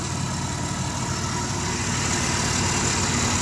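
A 1997 Dodge Caravan LE with a 3.3 engine, fresh spark plugs and a new alternator, idling in a close, steady low rumble with an even hum throughout and no talk.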